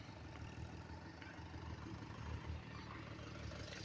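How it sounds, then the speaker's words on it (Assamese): A tractor engine runs steadily in a rice field, a continuous low rumble holding at an even level throughout with no voices. "এইখন ট্ৰেক্টৰ"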